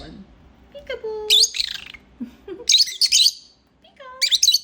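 Pet birds chirp and tweet close by in quick bursts, with sharp high calls separated by short pauses.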